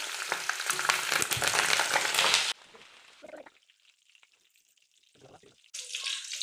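Green chillies frying in oil for village-style vada pav, a loud, dense sizzle that drops off abruptly to quiet, faint frying before surging loud again at the end.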